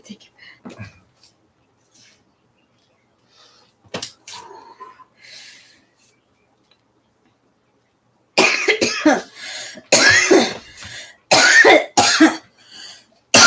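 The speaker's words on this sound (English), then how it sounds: "That's a smoky cough." A raspy, rough, phlegmy smoker's cough bursts out in several harsh, close fits after near silence, with soft breathy sounds earlier.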